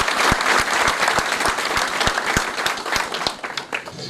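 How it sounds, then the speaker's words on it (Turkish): Crowd applause at a Turkish political rally honouring party workers, dense sustained clapping from many hands with sharp individual claps standing out, loud and continuous throughout. "Bütün bu emekçilere buradan kocaman bir alkış gönderelim."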